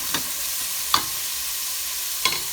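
Chicken browning in a pan for jalfrezi gives a steady, quiet sizzle, broken by three brief clicks or stirring knocks spaced across the stretch.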